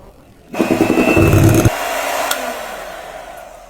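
An electric hand mixer whirs loudly through ice cream base blended with condensed milk, starting abruptly with a dense buzzing drone and rattling texture, then easing to a steadier, lighter hum.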